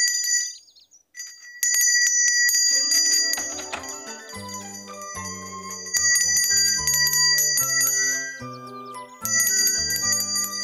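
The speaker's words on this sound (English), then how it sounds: "Of course, he'd ring the bell." Bells on a children's puppet show ring in repeated bright, clear strikes, pausing briefly early on, then continuing with jingling chimes over a gentle musical accompaniment, loud and close.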